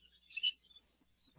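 Budgerigar giving a short burst of two or three quick, high chirps, faint and close, then quiet.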